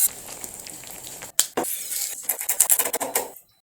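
Mushrooms being thinly sliced with a knife on a board, a quick run of crisp tapping cuts that speeds up, over a faint background hiss, then stops abruptly.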